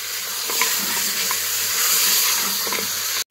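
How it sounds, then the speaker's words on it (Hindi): Beef fries with browned garlic in a pan for nihari while being stirred. A steady hiss of sizzling runs under light scraping and ends abruptly. "हमें बीफ को अच्छी तरह से भून लेना है"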